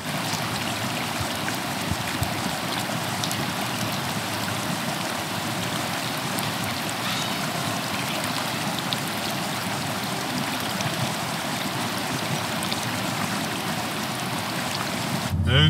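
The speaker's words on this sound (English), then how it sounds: "Enjoy some water sounds." Mountain stream water flows steadily through the Great Smoky Mountains, a continuous broad rushing wash that stays even and fairly close throughout with no clear voices.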